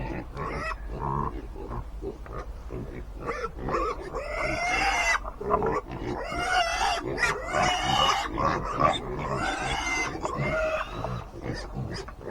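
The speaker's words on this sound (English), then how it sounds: "Pig's biting in my pants." Pigs grunting and squealing continuously at close range, several animals overlapping in busy, snuffling bursts.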